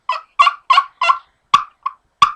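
A hen turkey is imitated on a nail turkey call. Seven short, clear yelps come in an even series, close and loud, with silence between them and no talk.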